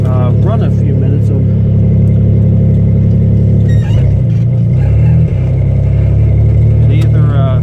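Truck engine running rough after a starved carburetor, a loud continuous mid-pitched drone with slight surges and dips, close to the microphone throughout.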